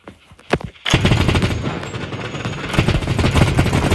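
Rapid automatic gunfire in the mobile shooter Battle Prime, a sharp shot or two at first, then sustained loud bursts of machine-gun fire with heavy impacts running continuously to the end.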